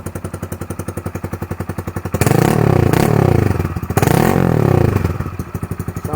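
A Honda Grom MSX125 fitted with a cheap Chinese aftermarket exhaust idles with a loud, fast, even putter close by, then twice revs up hard into a raspy roar before dropping back to idle.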